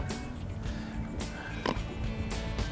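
Freshly caught croaker-like fish croaking near Amelia Island, a series of short rough grunts repeating irregularly, close and moderately loud.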